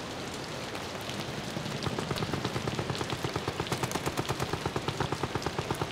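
Rapid bursts of gunfire, an added sound effect during a stream of the horror game Amnesia: The Bunker, start softly and build into a steady, loud, evenly spaced volley over a rain-like hiss, with no talking.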